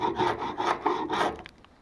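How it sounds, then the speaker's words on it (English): A chisel scrapes old finish off a boat hull during restoration, giving four or five quick rasping strokes in a row, close and distinct, before fading out. "if you just run a chisel up to it, it just like rips off like huge areas like this"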